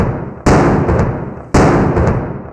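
A historic cannon in Croatia fires at midday, heard as two loud booming blasts about a second apart, each with a sharp onset and a long rumbling decay, close and dominant.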